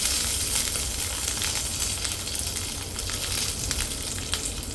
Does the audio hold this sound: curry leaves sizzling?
yes